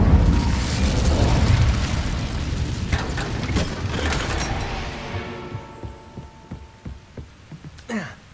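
Incendio fire spell cast in the Hogwarts Legacy video game: a heavy booming burst of flame that rumbles loudly for several seconds, then thins into scattered crackles and pops before a final sharp flare.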